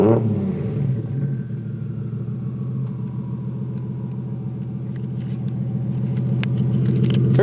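Nissan 240SX with a swapped 1JZ engine starting up and settling into a loud, steady rumbling idle close by, with no one talking.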